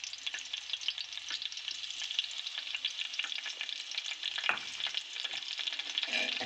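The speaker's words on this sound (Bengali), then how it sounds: "এখন এটাকে একটু নেড়ে চেড়ে নিব" Finely chopped ginger frying in a pan for fried rice gives a constant moderate sizzle, broken by light scraping stirs near the middle, with no speech.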